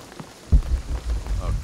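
Rain in Shadow of the Tomb Raider falls as a dense, low rumbling wash of drops that swells suddenly after a quiet start and stays steady, with faint voice-like murmurs underneath.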